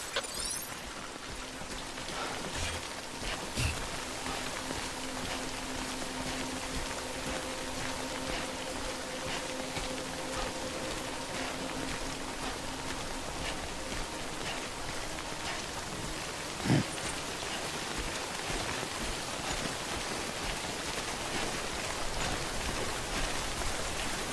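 Steady rain from the Death Stranding video game falls as a constant hiss across the whole stretch, with a low hum running underneath and no voices.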